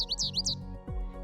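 A short bird call played back through the Merlin bird ID app: a few quick rising chirps in a rapid series, clear and close, with a low hum underneath.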